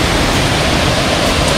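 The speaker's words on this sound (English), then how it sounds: "There is a little waterfall here, and then right above it there is a bigger waterfall" A small waterfall at Pua'a State Wayside on Maui, in a jungle setting, pours as a dense, constant broadband rush of falling water, loud and close with no pauses.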